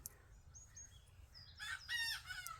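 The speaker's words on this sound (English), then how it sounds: "chickens are running around" Faint bird chirps come first, then a rooster crows once at a distance, a short, clear, harmonic call over quiet background.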